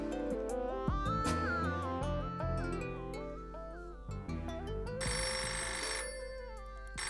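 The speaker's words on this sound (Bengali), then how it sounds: "তোমার ফোন এসে গেছে।" A phone ringtone plays an incoming-call melody in an indoor domestic scene, a bright repeating electronic tune that carries steadily at moderate loudness for several seconds with no talk over it.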